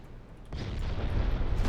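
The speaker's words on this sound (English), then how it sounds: "No, wait, that was normal gunfire, I think." Naval gunfire in the warship game Ultimate Admiral Dreadnoughts, a low rumbling boom that swells in after a quiet moment and rolls on as a sustained heavy roar.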